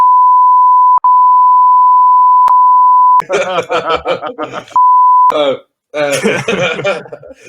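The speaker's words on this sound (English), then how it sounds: "I want to see if I can do a really long beep." A steady, loud electronic tone drones for about three seconds with small blips, then gives way to people talking, and the tone briefly returns between voices.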